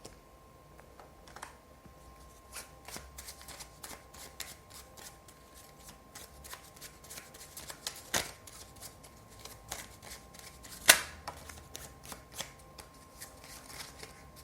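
Tarot cards are shuffled close up with a continuous soft riffling and flicking and a couple of sharper snaps partway through, quiet, with no talk.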